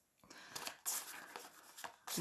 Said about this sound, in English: I'm going to just go ahead and shuffle up these